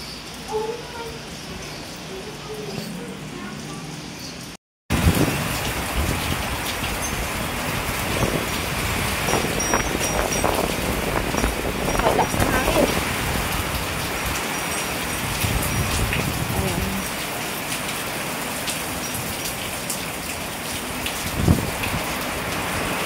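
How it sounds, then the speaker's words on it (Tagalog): Strong southwest monsoon (habagat) wind driving rain, a steady dense roar of downpour and gusts that cuts out briefly early on, then continues loud and unbroken, with faint voices now and then. "Ayan, ang lakas ng hangin."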